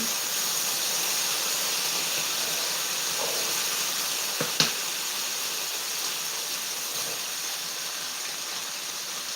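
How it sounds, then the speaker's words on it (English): Vegetables fry in a skillet with a loud, steady, close hiss and sizzle, broken once by a brief clink of a stirring utensil, and nobody talks. "I'm going to go ahead and give these a stir"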